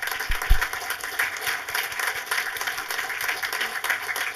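Audience applause greeting actress Katja Riemann as she returns to the front of the stage at a film talk, dense steady clapping from a hall crowd with a couple of louder claps near the start.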